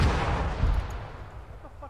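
Mortar rounds crash into trees in Arma 3, heavy rumbling blasts and crackling impacts rolling loud and continuous before fading slightly toward the end.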